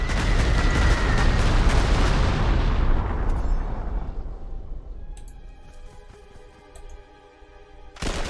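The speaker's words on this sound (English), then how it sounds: "This is some very one-sided bombing going on right now." Heavy bombing explosions in Panzer Corps 2 during the 1941 Crete battle: dense, loud rumbling blasts roll together for about three seconds, then fade into quieter in-game music, with a final burst at the end.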